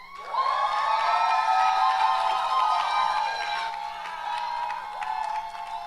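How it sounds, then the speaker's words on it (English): A live audience at a televised singing competition finals cheers, whoops and claps in a loud continuous burst that gradually eases off, with no voices talking over it. "Can I have a round of applause for Jemima?"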